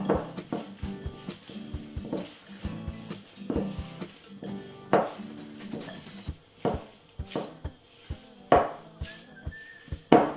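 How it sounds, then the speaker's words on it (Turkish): A knife chops parsley on a cutting board for fellah köftesi in a home kitchen, a series of quick, crisp taps in uneven clusters, fairly close and alone without talk. "Bir tutam maydanozu köftenin içine doğruyorum."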